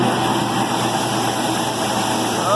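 A combine harvester's engine runs revved up at high throttle while unloading soybeans into a trailer during a custom harvest, a steady, loud, dense mechanical roar filling the whole clip with no break.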